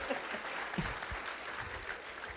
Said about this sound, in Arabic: صفقوا لي الله يجزاكم خير.